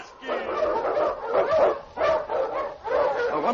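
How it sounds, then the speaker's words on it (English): Husky sled dog, an Eskimo lead dog, barking and yipping in a radio drama, several loud close bursts in an uneven rhythm with whimpering tones between them. "The Wonder Dog King, swiftest and strongest of Eskimo lead dogs"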